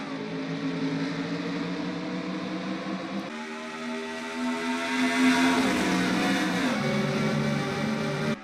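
Race cars in a stock-car racing game accelerate on a restart after a green flag, a pack of engines droning and rising in pitch through the gears, loud and close with overlapping tones.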